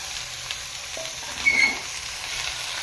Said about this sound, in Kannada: ಆನಿಯನ್ ಸ್ವಲ್ಪ ರೋಸ್ಟ್ ಆಗಿದೆ, ಸೊ ಈಗ ಮಟನ್ ಹಾಕ್ತಾಯಿದ್ದೀನಿ